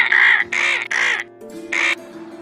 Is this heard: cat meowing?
no